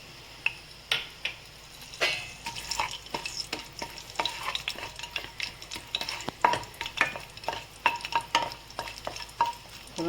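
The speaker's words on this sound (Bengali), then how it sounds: "আমি কড়াইতে তেল দিয়েছিলাম, তেলটা গরম হয়ে গেছে। এবারে আমি এই ফোড়নের যেগুলো রেখেছিলাম এগুলো আমি সব দিয়ে দিলাম।" Whole spices for a tempering frying in hot oil in a wok for chicken kofta curry, crackling sizzle with frequent sharp stirring clinks and scrapes of a utensil against the pan, close and alone.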